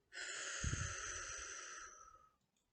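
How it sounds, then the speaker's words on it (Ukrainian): A single breath is drawn in and then blown out through the mouth in a long, steady, breathy rush. It sounds close and fairly soft, then fades out. "і видихаємо через ротик і здуваємо животик"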